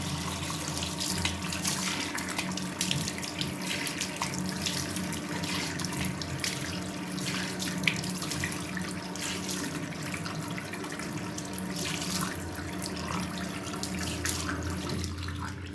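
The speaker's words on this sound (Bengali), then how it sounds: "এবার আমি মুখটা ধুয়ে নিচ্ছি" Tap water running steadily into a sink while someone washes their face, a constant close splashing flow with no talk.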